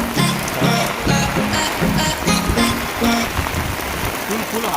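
Rain falling outdoors near Morbe dam in Panvel, a steady close patter on surfaces with a rhythmic low thumping and people talking over it.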